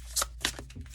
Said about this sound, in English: Let me see if I can pull one more card